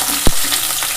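Onion, capsicum and tomato chunks with cloves sizzle steadily in a hot pan for a chicken dish, a continuous bright hiss with one short louder burst as the pan is stirred.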